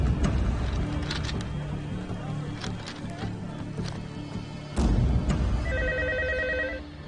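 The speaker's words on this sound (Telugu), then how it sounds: "శబ్నం హోటల్ నుంచి చోప్రా ఫోన్ చేస్తున్నారు." A landline telephone rings repeatedly with an electronic trill, heard over a busy room with muffled background activity and a sudden louder shift partway through.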